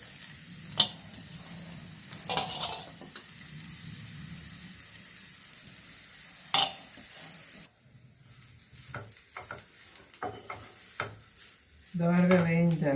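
Grated amla (Indian gooseberry) roasts in a pan, with light sizzling and intermittent scraping stirs, then a louder burst of frying near the end; no talking.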